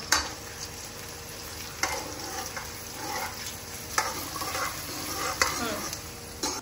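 Chopped onions sizzle and fry steadily in a pan while a utensil stirs them, scraping with irregular louder strokes over a continuous crackle, close up with no talking.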